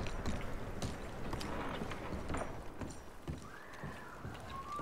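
Horses in Red Dead Redemption 2 clip-clop softly with scattered hoof thuds, and a brief neigh comes near the end, all faint and close.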